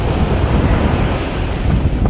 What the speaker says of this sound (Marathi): जोराच्या लाटा पण येतात